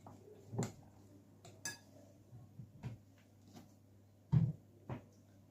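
Starch being stirred into pie batter in a bowl, heard as a few sparse clinks and knocks of a utensil against the dish, quiet and close with gaps of near silence between.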